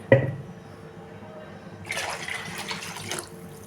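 Water pours into a pot of tomato rasam for a couple of seconds, a steady splashing stream after a brief clatter, close by with no voices.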